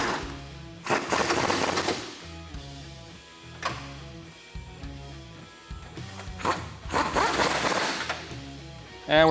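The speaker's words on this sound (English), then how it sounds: "lock these in with the impact gun" An impact gun tightens 21mm nuts on a 2015-2019 Ford F150 truck bumper, giving several loud rattling bursts of a second or so each, separated by short pauses, close by.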